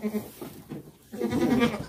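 Goats bleat in short, nasal cries inside a pen, a couple of calls close by with some rustling between them.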